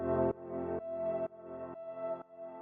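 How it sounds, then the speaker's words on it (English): Piano part for an Anjunadeep-style melodic deep house track: a run of six sustained chords struck in a steady rhythm about every half second, each ringing smoothly into the next, fairly loud and close, with no voices over it. "So the next thing I have here is the piano,"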